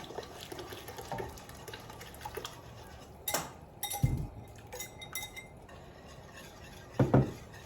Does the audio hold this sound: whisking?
yes